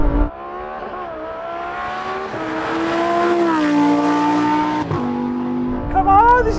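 A Lamborghini Huracan Performante and a Chinese SUV accelerate hard side by side in a drag race, loud engine notes climbing in pitch with audible gear changes and a brief tire chirp near the end.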